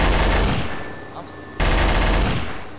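Gunfire aimed at a turret in Garry's Mod, a video game: loud, dense bursts of rapid automatic shots, close up, fading after the first burst and then resuming hard.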